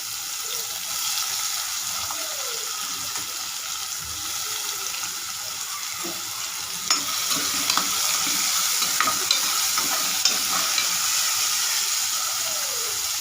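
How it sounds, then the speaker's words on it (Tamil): Curry leaves and chopped onion frying in a pan for kadalai curry, a steady sizzle with stirring scrapes and occasional sharper clicks of a spoon against the pan, close and continuous with no talking. "அடுத்து கருவேப்பிலை, வெங்காயம் கொஞ்சம் போட்டுக்கணும்."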